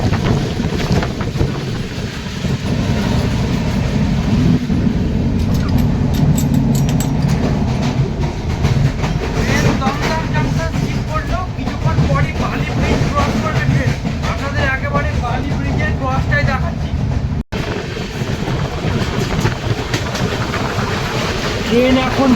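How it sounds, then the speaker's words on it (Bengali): Darjeeling Mail express train running toward Bally Bridge over the Ganges, a loud continuous rumble and rattle from inside the coach, with rushing wind and a voice talking over it, and a brief cut near the end. "ট্রেন এখন বালি ব্রিজের উপর দিয়ে গঙ্গা পার করছে"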